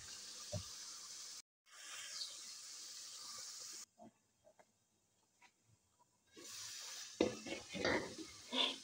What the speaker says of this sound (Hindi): ये मसाले को अच्छे तरीके से फ्राई कर रही हूँ मैं।